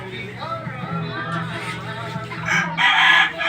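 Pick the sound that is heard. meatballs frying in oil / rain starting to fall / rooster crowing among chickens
rooster crowing among chickens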